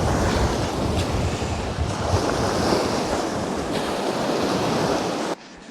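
Strong wind and crashing surf on a North Sea beach, a continuous loud roar of breaking waves with gusty microphone buffeting throughout, cutting off abruptly near the end.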